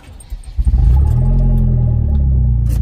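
A car engine with open headers and no downpipe revs up hard after a quiet idle, settling into a loud, sustained, rumbling roar close by.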